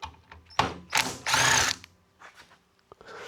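A power tool removes bolts while a Nissan Leaf inverter is taken apart, with short drill-like whirring bursts and ratcheting clicks, close, loud and brief, separated by quiet gaps.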